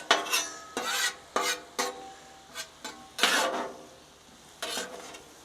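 Onions stirred on a 30-inch griddle deck, with a steady sizzle under a series of sharp metal spatula scrapes and clacks at an uneven rhythm, close and fairly loud.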